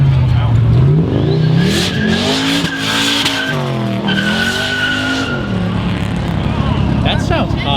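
An engine-swapped car at a street car meet revs hard, with rising and falling engine pitch and tire squeal. The sound is loud, close and continuous, with crowd noise and voices mixed in.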